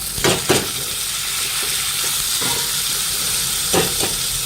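Pumpkin, cauliflower and drumstick pieces hit onions frying in a pan, setting off sharp bursts of sizzling over a constant close hiss, with a few more surges of spattering later and no voices.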